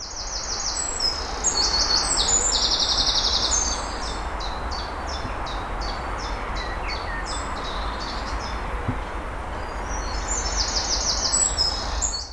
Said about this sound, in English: I can hear wood pigeon and lots of other high-pitched tweets. But notice there's still the rumble of the road in the background.